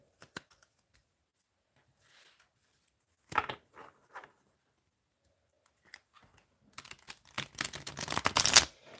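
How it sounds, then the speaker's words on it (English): Tarot cards being shuffled by hand, with brief soft riffles early on and a longer, louder burst of dense papery riffling toward the end, close up and with no talk. "Okay, let's have a shuffle."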